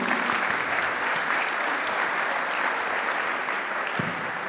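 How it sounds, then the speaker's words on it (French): Sustained applause from a crowd, dense and even clapping filling the whole stretch without pause. "on peut les applaudir, parce que c'est pas mal du tout"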